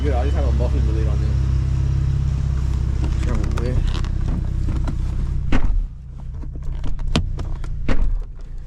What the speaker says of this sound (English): Cold start, but it sounds pretty good. I just have a muffler delete on